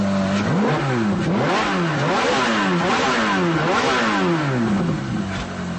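A high-revving 4.3-litre Ferrari F430 V8 engine accelerating hard, its pitch climbing repeatedly and dropping with each gear change, loud and close throughout.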